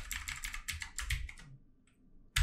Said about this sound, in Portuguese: Meu teclado bichado.